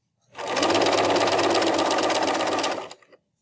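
A sewing machine stitches a face mask seam in one loud, continuous close-up run of rapid needle clatter lasting under three seconds, then stops.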